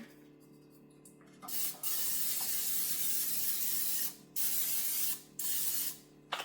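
Non-stick cooking spray hisses onto a six-cup muffin pan in three bursts, the first about two and a half seconds long, then two shorter ones, close and fairly loud with brief quiet gaps between.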